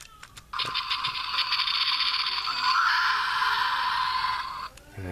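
Hasbro Jurassic World Fallen Kingdom Attack Pack Dilophosaurus toy plays an electronic roar effect: a loud, raspy, sustained screech lasting about four seconds, starting abruptly after a click and cutting off cleanly.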